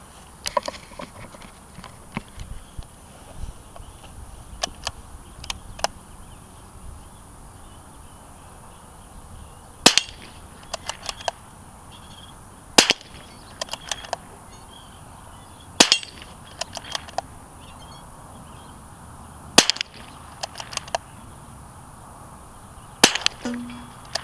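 A CZ 452 rifle fires a magazine outdoors, with several sharp, loud reports spaced a few seconds apart, each cracking cleanly above quiet background noise.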